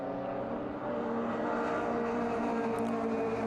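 Mazda MX-5 Cup race cars running at the Red Bull Ring, a steady, sustained engine drone with layered tones, heard at an even distance without any break or talk.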